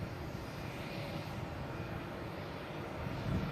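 A JetBlue jet airliner taxis along a Boston Logan alleyway, a steady low engine rumble and whine from a short distance, continuous and even for a few seconds.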